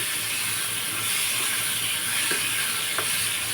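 Steady sizzle of chopped tomatoes and bitter gourd frying in oil in a pan, a constant bright hiss with a few faint clicks of stirring, no voices.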